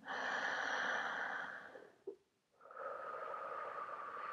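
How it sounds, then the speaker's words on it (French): A single deep breath drawn in during a guided meditation, close and soft, with a brief nasal catch, followed by a moment of near silence before a quiet, steady hiss resumes. "Prenez une grande inspiration"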